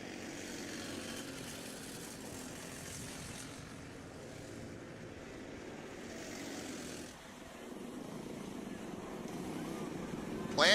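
Motorcycles in the first heat race of round 3 of the AMP Cycle League at Adams Motorsports Park, going the opposite way, make a steady, broad engine roar that sounds distant and somewhat wind-blown, dipping briefly before rising again.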